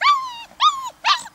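Young Berger Blanc Suisse puppies, about five weeks old, give three close, high whining howls in quick succession, each rising then falling, with short gaps between them.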